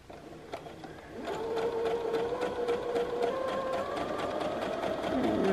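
A sewing machine chain pieces fabric Dresden quilt blades, starting after a brief pause and running in a steady, close, continuous whir with a faint rhythmic needle patter.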